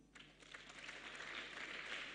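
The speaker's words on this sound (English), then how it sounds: "let's clap for them." Applause from a seated audience at a national business pitch competition and exhibition session, building from a quiet start into steady, moderately distant clapping that holds for a couple of seconds.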